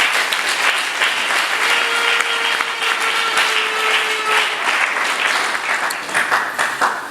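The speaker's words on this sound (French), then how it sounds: "Vos applaudissements s'il vous plaît." Sustained applause from a large crowd at a brigade graduation ceremony in Kinshasa, dense steady clapping that fills the whole stretch at high volume with no talk over it.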